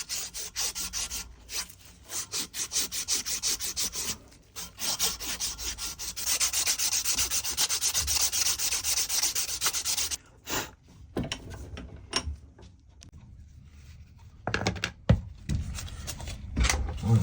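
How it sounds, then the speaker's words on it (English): Hand sanding with sandpaper scrubs the last rust off a metal part in a shed, a close, rasping back-and-forth rubbing in quick strokes with brief pauses and scattered knocks later on. "So I'm just using a bit of sandpaper just to get that last bit"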